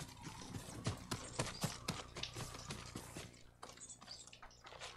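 A horse's hooves clip-clop in Ghost of Tsushima, a quick run of fairly soft trotting steps with a faint watery patter, and no talk over them.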